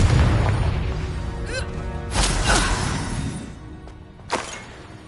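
Confringo, an explosive spell in the Hogwarts Legacy video game, lands as a heavy rumbling boom and then several bursting blasts with crackling debris. The sound is loud and close and fades between hits.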